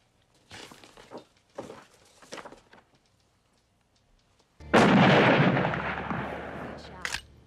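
Gunfire at a shooting session: a few sharp reports in the first half, then a loud sustained crackling burst with a final sharp crack, close and unaccompanied by talk.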